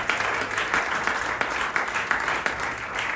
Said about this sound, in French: Est-ce qu'on peut acclamer cette parole?